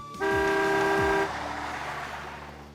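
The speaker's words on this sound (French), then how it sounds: "Pourquoi est-ce qu'il klaxonne comme ça?" A car horn honks loudly in two sustained blasts of about one second, the tone steady and near, then dies away into low street rumble.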